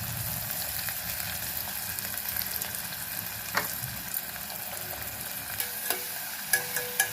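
Onion pieces with asafoetida, cumin and green chilli pieces frying in a pan, a steady close sizzle with occasional clicks of stirring, no voices.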